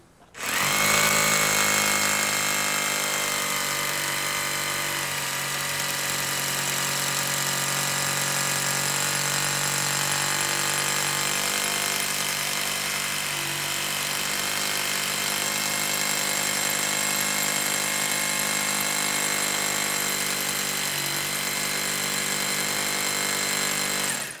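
A Deko rotary hammer (model DKRH20B50) with a 10 mm bit drills into very hard machined concrete, a loud, steady motor whine with hammering rattle running continuously from start to finish, with no talk.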